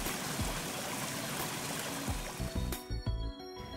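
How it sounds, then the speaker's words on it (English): Little Arkansas River running high after heavy rain, a steady broadband rush of flowing water that holds evenly throughout, with a few low thumps and gurgles near the end. "After a heavy rain, the water level of the Little Arkansas River rises."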